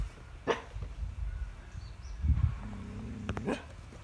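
A dog on an island in Thailand barks a few times at varying distances, with a short sharp yelp early and a rougher bark later, amid outdoor ambience.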